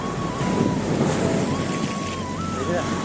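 Sea waves surge along the coast after ten days of heavy rain, a constant loud wash and rumble with wind buffeting the microphone, while a faint tonal whine drifts in the background.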